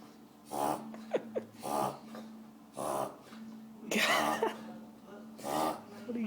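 A dog makes a series of odd snorting, grunting noises, five or six short bursts spaced about a second apart, close and fairly loud, with brief pauses of quiet between them.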